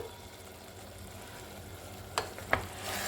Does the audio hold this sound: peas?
yes